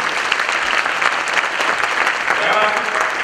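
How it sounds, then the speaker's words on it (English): Applause for a presenter at a graduate sales bootcamp, steady loud clapping from a crowd that continues throughout with voices mixed in underneath. "Let us give the mighty a round of applause to the very presentation he has given."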